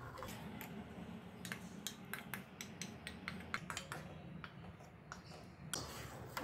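Faint, steady clinks of a spoon against a pot as milk is stirred to make paneer, the taps irregular but continuous over a low background hum.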